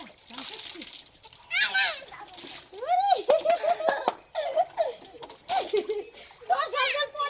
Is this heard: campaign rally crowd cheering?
no